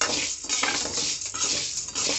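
Urad dal fries in oil in a pan while a spoon stirs it, making a close, continuous sizzle broken by repeated scraping strokes against the metal.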